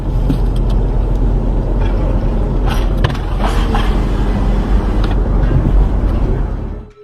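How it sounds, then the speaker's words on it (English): A car driving through deserted streets at night, with a loud continuous low rumble of engine and road noise, occasional clicks and rattles, close and steady, fading out at the end. "The car crosses deserted streets, entering territory that is often considered off-limits"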